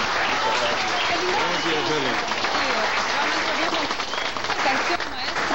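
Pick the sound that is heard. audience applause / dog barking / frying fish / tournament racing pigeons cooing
audience applause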